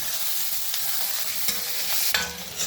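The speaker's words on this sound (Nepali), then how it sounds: "कटनेसीको लागि यो गराउँदै हुनुहुन्छ, भुट्दै हुनुहुन्छ आमाले" Local chicken pieces for katnesi fry and sizzle steadily in a pan while being stirred and tossed, with clear close scraping strokes at intervals over the continuous hiss.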